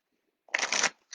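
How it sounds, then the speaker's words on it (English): A brief, crisp riffle of oracle cards being shuffled, a quick fluttering burst lasting under half a second, close and fairly quiet. "I'm just going to do a couple other shuffles"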